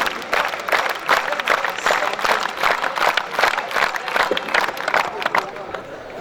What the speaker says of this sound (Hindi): जोरदार तालियों से आप उनका स्वागत करें